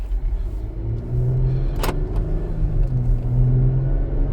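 A 2020 Jeep accelerates during a test drive, its engine rising from a low rumble under steady road and cabin noise, heard from inside the vehicle with a brief clunk midway.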